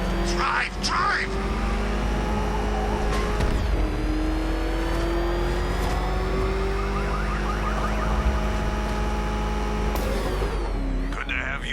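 In Batman Arkham Knight, a car engine revs and accelerates loudly as the vehicle drives away. Its pitch rises in sweeps over a low rumble, with shouting voices mixed in.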